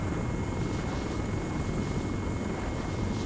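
A steady, droning aircraft engine roar holds close and loud throughout a quick flyby in a military video game, with no speech over it.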